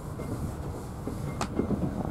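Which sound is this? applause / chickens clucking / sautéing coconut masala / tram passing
tram passing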